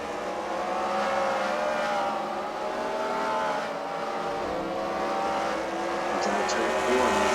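Race cars roar around the track at a CWRL fight night at the Freedom Factory, a steady continuous engine drone with some tire squeal, lasting throughout at a fairly loud, even level.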